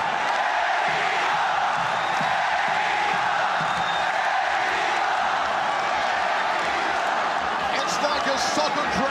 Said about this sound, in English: Here come the chants again, listen to this.